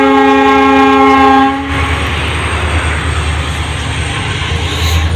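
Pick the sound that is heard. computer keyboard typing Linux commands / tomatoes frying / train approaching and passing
train approaching and passing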